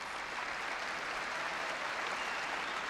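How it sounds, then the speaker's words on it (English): Crowd in a badminton arena at a men's singles final applauding and cheering a point, a continuous wash of clapping, fairly distant and even. "And a cheer because Hartono has notched his first point in this second game"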